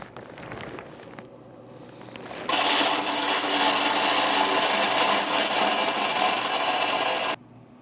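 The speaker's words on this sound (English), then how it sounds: "So let's go ahead and fill this hopper." Z Grills hickory pellets pour in a dense, steady rush into the hopper of a Z Grills 700D3 pellet grill for about five seconds, after a few soft handling clunks, then stop abruptly.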